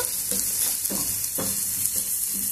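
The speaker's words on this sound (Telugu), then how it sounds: "ఉల్లిపాయ ముక్కలు బాగా వేగిపోయినాయి." Onion pieces frying in oil before bitter gourd is added, a loud steady close sizzle with soft rhythmic stirring scrapes about twice a second, no talking.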